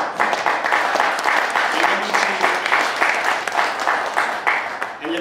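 A hall of guests applauds at an award ceremony at the Italian Senate in Rome, where local tourist associations receive quality marks; steady, dense clapping from many hands fills the whole stretch, close and loud.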